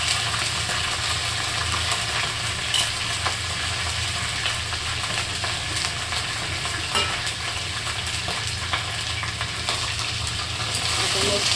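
Broccoli frying in hot tempering oil in a home kitchen, a loud steady sizzle that runs throughout with occasional stirring clatter.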